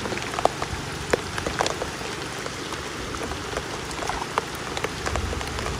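Heavy rain pours down steadily, a dense close hiss of drops drumming on surfaces with scattered louder splats throughout and no talk.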